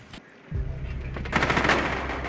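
Sustained automatic gunfire in Rainbow Six Siege aimed at a turret, a loud rapid burst of shots starting abruptly and continuing steadily to the end.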